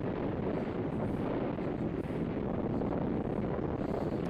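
Strong wind buffeting the microphone during a weather balloon launch at an Antarctic station on a June morning, a continuous, heavy low roar with no talk.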